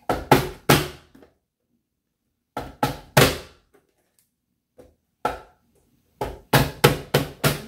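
Knife chopping a large onion on a cutting board, in quick bursts of sharp, close thunks separated by short pauses, with no voices.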